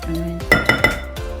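Utensil stirring sweet and sour chicken in a pan, giving three sharp clinks against the pan in a steady rhythm over a low background hum, close and moderately loud.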